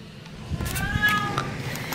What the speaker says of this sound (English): Do you hear my cat meowing?